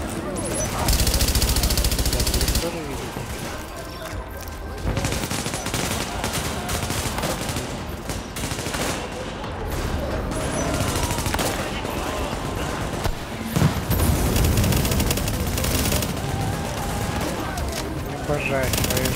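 Rapid gunfire bursts from the video game The Division fill a loud, dense battle mix, with shots and impacts crowding together almost without pause.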